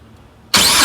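A Yanmar tractor engine turns over and catches after half a second of quiet, then runs loud and steady, close by, with no talk.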